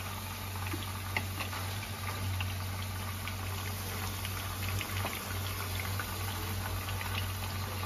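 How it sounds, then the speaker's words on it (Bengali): Chicken kofta balls frying gently in oil over low flame make a soft, steady bubbling crackle with scattered small pops and ticks, close up and quiet. "উল্টে পাল্টে হালকা করে ভেজে নেব।"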